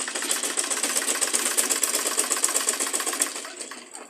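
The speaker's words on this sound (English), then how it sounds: "You continue sewing." A sewing machine stitches a tote bag in a fast, even run of needle strokes, close and loud, easing off near the end with no voices.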